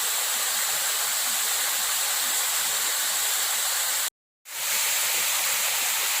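Phu Din So waterfall in Khun Han district, Thailand, gives a steady, loud broadband rush of falling water that fills the scene, cut by a brief dropout to silence near the end before the roar returns.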